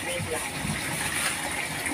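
A steady rush of water from a hose running over a terrace floor drain during rain, constant and fairly loud, with voices talking faintly underneath.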